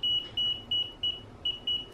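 A high electronic alarm beeps repeatedly in a steady rhythm, six short tones over a low background hum, with no talking.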